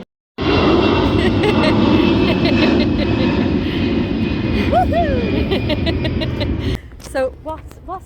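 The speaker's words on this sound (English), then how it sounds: "She spotted her first plane." An airplane taking off near a Bristol runway produces a loud, steady engine roar that holds for several seconds and then cuts off sharply, with people chatting beneath and after it.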